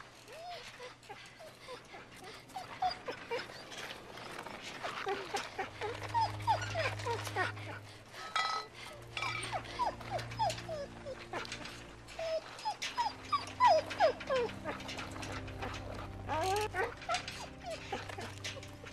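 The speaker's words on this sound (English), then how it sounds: "Dogs in misery." Dogs whimper and yelp in distress in The Walking Dead: Season 2 video game, with repeated high whines and short cries over a steady low background drone.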